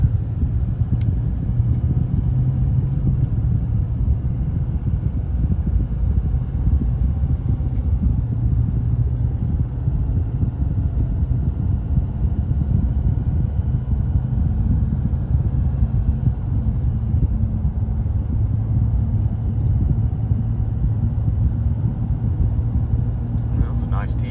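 Nitto Mud Grappler tires drone on the road beneath a moving GMC Denali, a steady low rumble heard from inside the cab that holds constant throughout.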